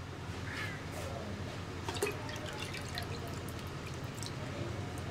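More water is poured into a clay pot during seasoning, giving a quiet continuous trickle with scattered drips and light splashes, faint and without talk.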